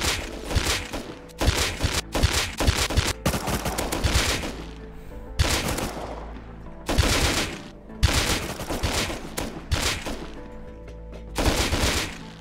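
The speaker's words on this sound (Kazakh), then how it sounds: "мен ботлармен атысып жатқан кезде" Gunfire in the video game Rust while shooting at bots, with loud bursts of rapid automatic shots in repeated volleys separated by short pauses.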